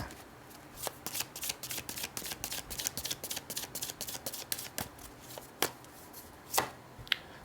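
Tarot cards are shuffled close up in a quick run of crisp riffling snaps for about five seconds, then a few slower, separate flicks and taps as the deck settles.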